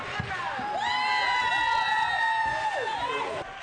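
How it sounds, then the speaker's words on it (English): Crowd at a hockey game in Canada featuring a visiting Australian team, cheering and whooping with high shouting voices, including children, rising over a continuous roar that holds steady before easing off. "The crowd was loud and cheered both teams."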